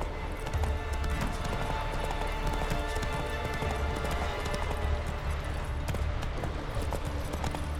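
Roach, the horse in The Witcher 3, galloping with dense, rapid, continuous hoofbeats over a loud, rumbling bed of game sound.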